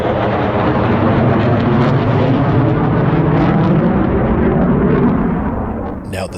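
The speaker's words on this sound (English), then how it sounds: "the steady and regular flyovers of military aircraft." A military aircraft passes over a campground in the Kern River area of Sequoia, a loud, continuous jet roar that holds steady and then fades near the end.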